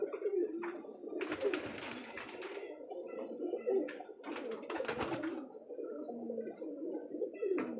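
Domestic pigeons cooing close by, repeated low throaty coos overlapping in an irregular rhythm, with brief wing flutters and a faint voice in the background.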